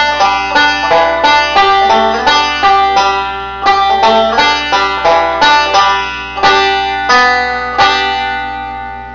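A Scruggs-style bluegrass banjo plays a quick, bright picked phrase, with sharp plucked notes in a steady rolling rhythm, close and clear with no voices.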